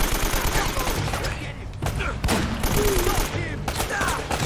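Shotgun blasts and gunfire from the game Uncharted: Drake's Fortune crack in a loud, dense volley of several shots over a busy game soundtrack.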